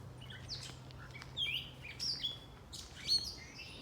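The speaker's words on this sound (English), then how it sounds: "I love hearing the birds go chirping." Several birds chirp and tweet in short bursts, fairly close, over a quiet outdoor background with a faint steady hum.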